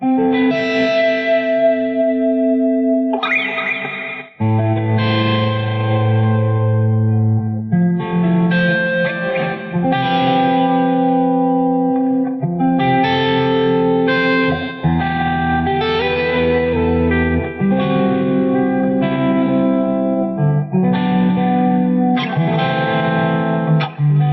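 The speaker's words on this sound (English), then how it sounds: "a low gain preset that has a lot of reverb on it" A clean electric guitar played through a Theta Pro DSP low-gain preset plays chords and melodic phrases drenched in lush reverb, notes ringing out and blending into a spacious wash.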